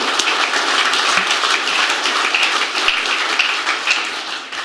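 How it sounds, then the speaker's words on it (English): An audience applauds at a McLaren design event, a dense, steady clapping that carries on for several seconds and fades slightly at the end. "So a big round of applause and say thank you"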